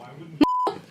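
A sustained censor bleep, a steady pure tone of about a quarter second, cuts sharply across casual speech reading out a phone number, with talking just before and after.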